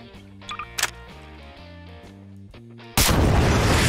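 A bomb explodes in Garry's Mod, a single loud broadband blast that cuts in abruptly and sustains as a roaring rumble after a stretch of quieter tonal mechanical clicks and thumps.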